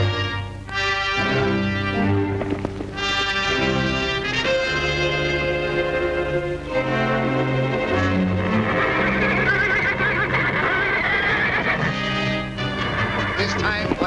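Repeated horse whinnies and neighs ring out over a continuous bed of dramatic music, with louder calls near the start and middle.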